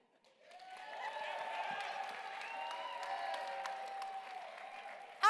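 Audience at a youth-led gala applauds as a vote, with clapping and crowd noise swelling after a quiet start and holding steady for several seconds, while a few faint voices carry beneath it.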